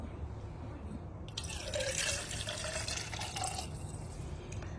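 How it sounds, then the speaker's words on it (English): A cup of chicken broth is poured into an emptied spaghetti can, a short splashing pour rising briefly over quiet kitchen background. "we're gonna add some chicken broth"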